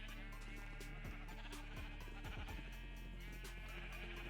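Sheep bleating in the Minecraft video game, several wavering bleats in quick succession, close and clear over a steady game background.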